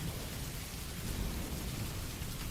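Steady rain falling outdoors in a garden setting, a dense continuous patter with low rumbling undertones, moderately quiet and unbroken throughout, with no voices.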